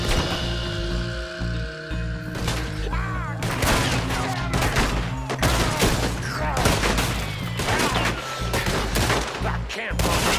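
Rapid gunfire from a Red Dead Redemption 2 shootout cracks out in dense, repeated bursts over a steady game soundtrack, loud and close with shots overlapping for most of the stretch.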